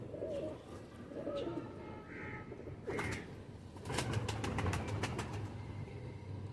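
Pigeons kept for sale coo softly and repeatedly at close range, their low rolling calls mixed with a few brighter chirps and some background rustling.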